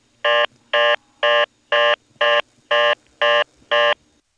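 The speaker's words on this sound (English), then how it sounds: "There's another case where you hear a power ring on intercept, this time alongside the audible ringtone. Sounds like it's 66 Hz again." Telephone ringback on a 1970s step-by-step exchange intercept line in Ramseur, North Carolina: eight evenly spaced buzzy ring bursts, each about a quarter second, with a faint low power-ring hum beneath, loud and alone.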